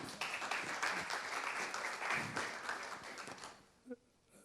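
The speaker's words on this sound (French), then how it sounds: "on peut les applaudir" A conference audience applauding at the end of a round-table on climate disruption and skills, a dense burst of clapping from a room of people that fades out after about three and a half seconds, with a brief voice near the end.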